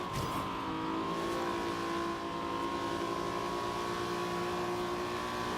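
A Mazda FD RX7 in the Forza Horizon 2 racing game holds a steady, sustained engine drone with a strong, even tone and a slight rise in pitch partway through, heard alone without talk.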